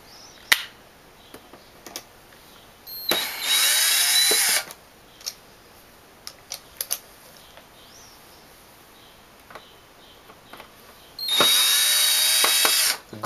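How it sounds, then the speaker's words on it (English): A power screwdriver backing screws out of the rear panel of a Yamaha DX100 synthesizer keyboard, two loud whirring bursts of a few seconds each separated by scattered clicks and handling taps. "So we're going to take all these screws out right here."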